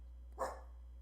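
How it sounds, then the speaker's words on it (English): A dog barks once from a couch indoors, a single short sharp bark standing out against a quiet room with a low steady hum beneath. "Our dog is just barking from the safety of the couch"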